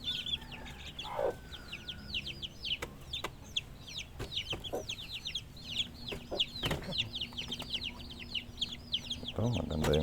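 Chickens on a backyard farm cluck and chirp in a busy, repeated chatter, with sharp clucks scattered across the scene and a few louder knocks and rustles nearby.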